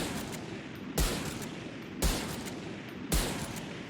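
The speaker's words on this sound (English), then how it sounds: "Let's look at hip firing at 10 meters, shall we?" Three evenly spaced sniper rifle hip-fire shots in the shooter game Valorant, each a sharp loud crack with a short tail over steady background hiss.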